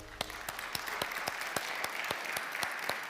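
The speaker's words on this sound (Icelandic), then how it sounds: "Eigum ekki að gefa henni gott klapp." A church congregation at a Sunday service gives warm applause, a steady run of distinct claps echoing in the room, moderately faint and continuous.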